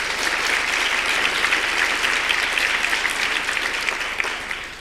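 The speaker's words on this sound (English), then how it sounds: "Big round of applause for yourself." An audience at a women's forum dinner gives a sustained round of applause, dense steady clapping from a large room that tapers slightly toward the end.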